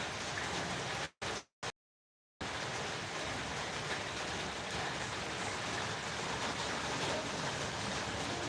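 Steady rain falls in Cuddalore, a dense, even hiss of drops on surfaces that continues throughout, interrupted only by a brief cut to silence near the start.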